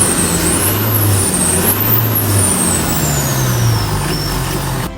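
Exhaust of a car fitted with a new muffler, whistling as it runs on the road: a continuous close engine drone with a high thin whistle gliding up and down over it, no voices.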